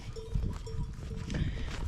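Sheep bleating a few times nearby amid rustling and a faint clanking bell, an outdoor flock of sheep and goats with no talking.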